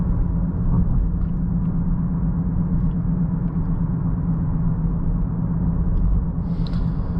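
Steady, loud low rumble of a 2020 Honda Accord EX-L 2.0T turbo engine pulling the car up to speed from inside the cabin, a continuous drone with no talk over it.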